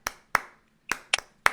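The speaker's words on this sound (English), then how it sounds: "And you clap on all the numbers." About six sharp hand claps in an uneven rhythm, close and distinct with silence between them, marking the numbers of a children's counting song in a classroom.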